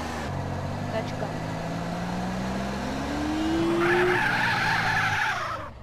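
A car in GTA San Andreas drives with a steady engine drone, then rises in pitch and squeals its tires in a sustained skid near the end, all close and loud.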